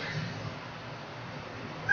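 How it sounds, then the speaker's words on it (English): A hungry house cat meows faintly, half buried in steady shortwave radio hiss and static, with a brief louder burst at the very end. "Well, yes, that's my cat saying meow."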